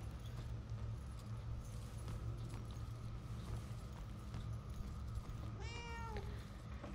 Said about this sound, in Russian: Вы слышали? Это было мяу.